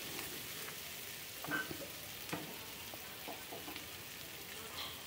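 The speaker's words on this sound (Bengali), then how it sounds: "এইভাবে পেঁয়াজটাকে বা পেঁয়াজ বা রসুন দুটোকেই আমি সুন্দর করে ভেজে নেব।" Onion and garlic frying in a pan for a jackfruit seed bharta, giving a steady soft sizzle with occasional light stirring scrapes, fairly faint and continuous with no talking.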